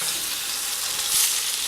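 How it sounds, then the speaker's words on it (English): A salmon fillet sears in a hot skillet, giving a brief, steady, close sizzle that swells slightly toward the end, with no one talking. "So it's just ready to sear this salmon"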